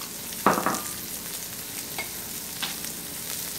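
Onions drop into a hot pan beside pork chops over reduced heat, starting with a sharp hiss and clatter, then settling into a soft, low sizzle with occasional stirring taps.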